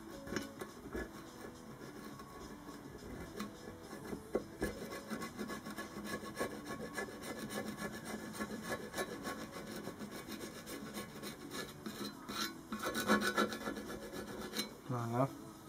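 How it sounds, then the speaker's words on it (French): Steady dry scraping and rubbing as a label is worked off a Metabo type 785 machine, continuous and close, with a slightly louder burst near the end and no talk. "Ça, l'étiquette, là, je vais devoir l'enlever."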